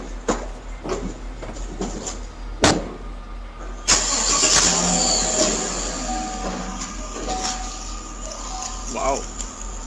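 A red truck starts up and pulls away in a garage, an engine rumble building after a sharp start and holding steady as it drives off, with background noise and some voices.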